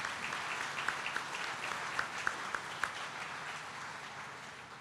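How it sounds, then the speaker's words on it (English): An audience at a hockey hall of fame induction evening applauds a broadcaster, a dense continuous clapping with a few sharp claps and whoops poking through, tapering off toward the end. "how about a round of applause"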